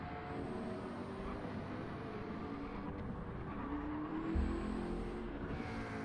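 A race car in a racing video game powers out of a corner at the Barcelona circuit and clips the curb, its engine a steady, loud drone that holds for the whole stretch with a brief low thump near the end.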